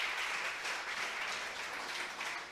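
A church congregation at a Spanish-language service claps together at a steady, even pace, heard faintly and somewhat distant, with no speech over it.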